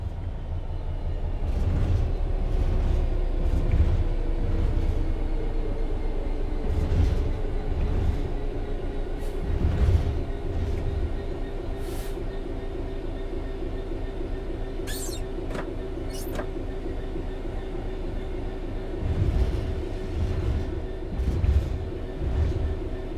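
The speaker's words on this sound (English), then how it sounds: "The train will then coast on level ground, and the train will only slow down very gradually." A train in the Train Sim World 3 game coasts on level track after the throttle is closed, a steady low rolling rumble with rhythmic wheel thumps and occasional faint squeals, continuous and fairly close.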